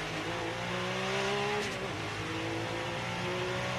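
A Porsche race car at Le Mans in 1983 accelerating hard out of the Arnage corner, a loud, steady, close engine roar rising in pitch from inside the car, with no talk.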